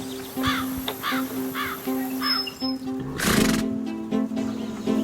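A horse neighs and whinnies in a stable at a horse care and rescue facility, the calls repeating over a steady hum, with a louder burst partway through.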